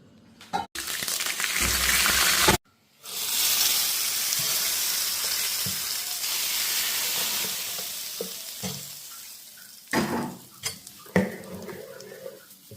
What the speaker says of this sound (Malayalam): ഇതിലോട്ട് നമുക്കിനി കടുക് താളിച്ച് വയ്ക്കാം